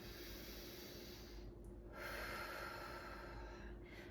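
Deep breathing in and out while holding a warrior pose in a yoga flow for runners: a long, close, airy inhale and exhale with a brief pause in between.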